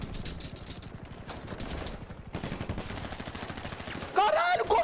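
Rapid bursts of automatic gunfire in a video game rattle continuously, with a voice talking over the shots and a louder, brighter burst near the end.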